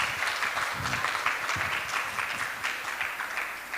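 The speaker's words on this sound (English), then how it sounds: "Can we have a round of applause again for the 3 to 5?" Steady clapping from an audience at a children's recitation contest, a moderate, continuous wash of hands with no voices over it.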